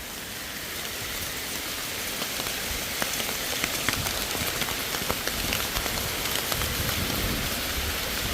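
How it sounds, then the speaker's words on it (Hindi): Heavy rain mixed with hail pounds a shed roof on a mountain trek trail, a dense, steady roar of drumming drops with sharper scattered hail impacts, loud and close throughout. "फिर से पड़ गई है बहुत तेज़ बारिश और ओले"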